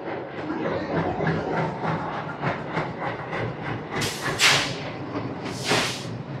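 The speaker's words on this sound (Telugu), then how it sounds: "మన డెక్కన్ క్వీన్ ఎక్స్ప్రెస్ అయితే వచ్చేస్తుంది" The Deccan Queen Express train arrives with a steady rolling rumble and wheel clatter, and two sharp hissing bursts near the end.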